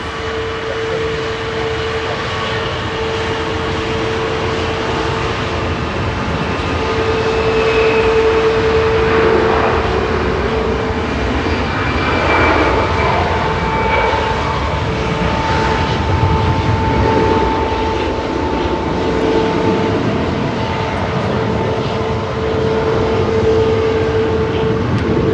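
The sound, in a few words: EasyJet A320 on takeoff roll to Barcelona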